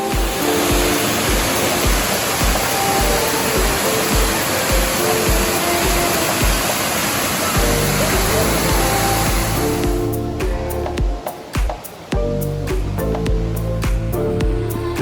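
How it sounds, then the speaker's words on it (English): Waterfall on the Four Waterfalls trail in the Fforest Fawr area of the Brecon Beacons, a loud continuous roaring rush of falling water filling the whole stretch with no talking. "That was an impressive waterfall."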